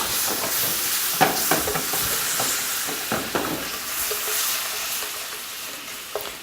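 Spoon scraping and stirring two tablespoons of brown sugar caramelizing over heat in a bowl, with steady sizzling and intermittent scraping taps, close and moderately loud with no talking.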